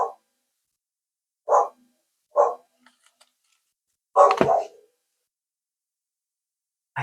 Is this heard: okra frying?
no